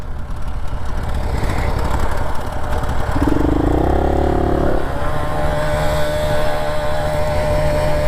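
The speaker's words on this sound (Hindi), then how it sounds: "संपत की गाड़ी दिक्कत कर रही है चढ़ने में" Motorcycle engine, likely an Xpulse 200 on a high mountain road in Ladakh, droning loudly and steadily as it strains uphill, with a brief rising rev in the middle, close and continuous with no talking.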